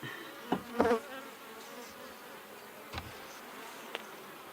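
Honey bees buzz around an open hive during an inspection, a steady low hum with a few brief nearby knocks and handling noises, no talking.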